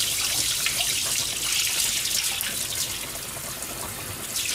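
Tap water runs in a continuous splashing stream while koji grains are rinsed off food in a kitchen sink, steady and close with no talking.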